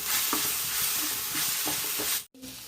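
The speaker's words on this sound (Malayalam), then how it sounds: "ഇനി നമുക്ക് ഇളക്കാം" Coriander masala stirred in a hot pan for a mackerel fry, a steady sizzle with scraping spoon strokes, briefly cut to near silence before resuming.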